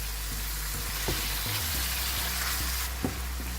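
Minced chicken keema fries in a pan for a restaurant-style stuffed capsicum filling, giving a steady close sizzle broken by a few soft scraping stirs. No voices are heard.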